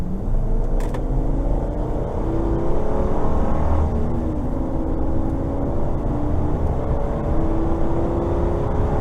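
A Ford Econoline E350 15-passenger van with a V10 engine, fully loaded, accelerates up a freeway on-ramp, its engine climbing steadily through the gears with a rising drone and road roar heard from inside the cabin.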